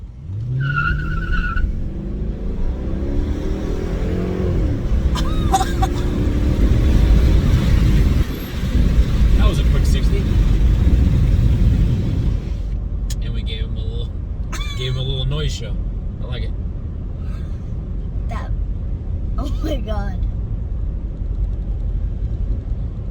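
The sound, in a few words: car exhaust of 5.7 Hemi engine while driving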